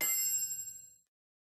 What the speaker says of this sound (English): We can take you from a pin drop